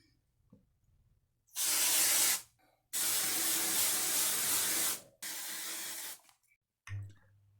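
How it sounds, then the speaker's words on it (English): Hairspray from an aerosol can sprayed onto hair at close range in three loud hissing bursts, the middle one longest, with quiet pauses between and no talk. "we're gonna spray some shit in my hair"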